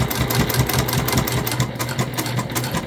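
Sewing machine stitching along marked lines on a Trailblazer convertible bag, a steady close whirring run of rapid stitches with a low motor hum, continuing without pause and with no talking.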